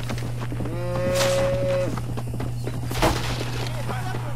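Cows moo in a video game, one long drawn-out moo with a steady electronic hum and game noise beneath it, followed by a sharp thud.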